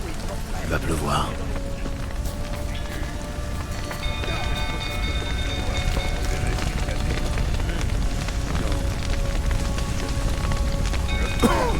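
A stable burns in The Witcher 3, its fire crackling and rushing beneath steady rain and wind, with voices talking over it throughout.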